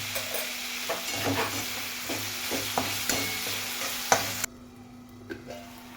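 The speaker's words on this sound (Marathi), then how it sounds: "टॅमॅटो पण चांगला फ्राय करून घ्यायचा." Chopped tomato frying in hot oil with salt for a dal and potato bhaji, sizzling steadily while a spoon scrapes and stirs the pan in regular strokes, then settling to a quieter fry.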